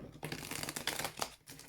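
Brief close riffling and flicking of a deck of tarot cards being shuffled, quick and soft, with no voice.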